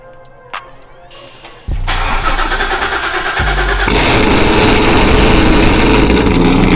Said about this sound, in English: I'm gonna hit y'all with a cold start, and it's gonna be super loud